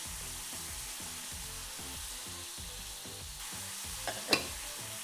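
Onions and bacon sizzle in melted butter in a pan, a steady close crackle with soft rhythmic stirring or scraping underneath and a couple of sharp clinks near the end.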